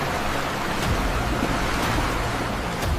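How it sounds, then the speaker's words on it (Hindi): Stormy sea waves with strong wind roar as a continuous, loud wash of surf and spray, with no voices over it. "तेज हवाएं, लहरों का शोर"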